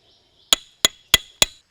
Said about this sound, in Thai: เราก็จะมาเริ่ม ตอก ด้านข้าง ไล่ตอกไปจนทั่วเต็นท์ครับ